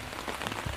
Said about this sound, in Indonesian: Tiba-tiba hujan deras yang mengharuskan saya memasang tenda.